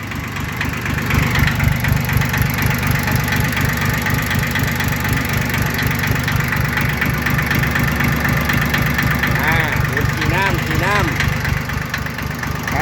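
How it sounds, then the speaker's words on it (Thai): A Yanmar YM1610 three-cylinder diesel tractor engine idles steadily nearby with a rhythmic knocking throb, and someone talks over it throughout. "ผมอ่า YM1610 นะครับ ตัวนี้เครื่องยนต์3สูบฮะ"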